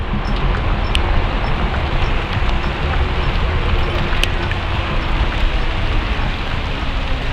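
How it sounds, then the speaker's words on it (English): Dense, steady pattering of rain and hail striking surfaces all around, loud and continuous, with a few sharp ticks of hailstones standing out and a broad rushing wash underneath. "Why is it raining?"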